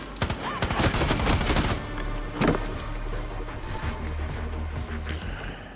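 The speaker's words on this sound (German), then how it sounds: "Das war ein Scharfschütze" Sniper gunfire in the video game Far Cry 6: a dense, loud volley of shots and impacts in the first two seconds, one more sharp crack near the middle, then a steady noisy rumble of combat ambience.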